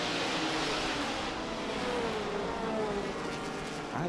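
Vintage and modern race car engines whine and drone continuously at Laguna Seca, a dense roar of cars speeding along the track at some distance.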